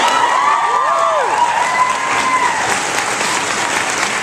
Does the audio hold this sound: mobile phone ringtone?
no